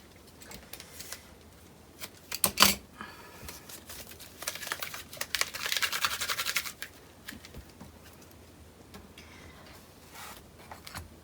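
Scissors cutting material for a book cover, close and fairly quiet. One sharp snip stands out, followed by a longer rustling, crinkling cut, with faint handling noises around it and no talking.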